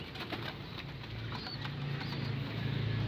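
Pigeons coo softly at a backyard loft during morning feeding, low repeated murmuring coos close by over steady background noise with faint wing flutter.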